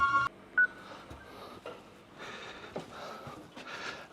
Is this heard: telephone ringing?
yes